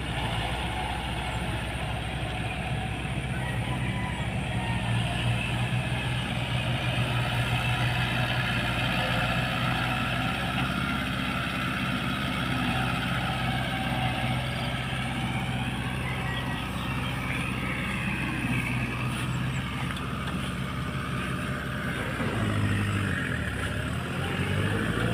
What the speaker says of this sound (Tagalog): ito po yung traktora ng aming samahan na galing po sa ating gobyerno sa DA.